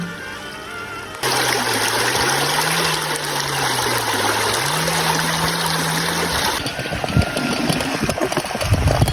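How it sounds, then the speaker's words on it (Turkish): Steady broadband rush of a flowing highland stream fills the scene, with a low engine-like hum running underneath for most of it before fading. "Sonra derenin şırıltısı."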